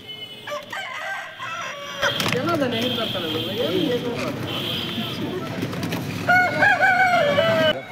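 Roosters crow loudly in drawn-out calls amid a busy outdoor crowd at a weekly village market in Baireddipalli, with people talking and other birds clucking nearby.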